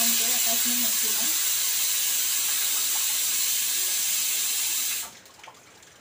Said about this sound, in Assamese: কুকাৰত চিটি মাৰি আছোঁ